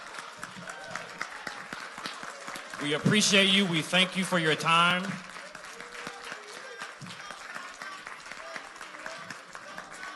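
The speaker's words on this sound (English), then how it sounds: "Can we give all of the candidates a round of applause?" Audience at a mayoral and trustee candidate forum applauds the trustee candidates, a steady spread of clapping running throughout while a speaker talks over it midway.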